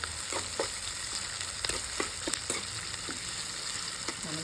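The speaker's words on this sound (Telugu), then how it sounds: "ఇప్పుడు నలగొచ్చిన 2 చిన్నులపాయ రబ్బలు వేస్తున్నానండి దాంట్లో" Two crushed garlic cloves drop into a hot oiled pan, set among brinjal, bringing a steady frying sizzle with scattered crackles and soft pops, fairly close, with no voices.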